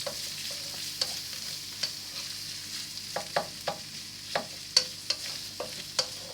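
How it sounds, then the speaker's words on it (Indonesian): Red onions sautéing over a low flame for chicken rendang, a soft, quiet sizzle broken by light, evenly spaced stirring clicks and scrapes, with no voices. "Kita tumis yang bawang merahnya. Use small fire on this."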